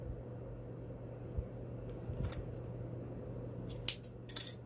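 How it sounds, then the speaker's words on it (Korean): Scissors snip a small notch into T-shirt fabric during V-neck sewing, a few quiet crisp clicks near the end over a steady low room hum. "펜으로 표시하셔도 되시고 저처럼 가위집 주셔도 돼요."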